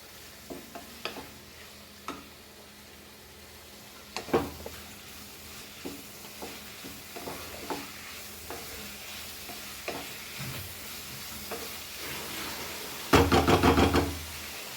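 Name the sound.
spices and bay leaf frying in a pan for Goan prawn sukha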